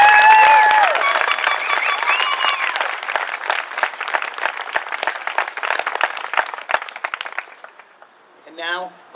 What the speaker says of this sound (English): give our seniors another round of applause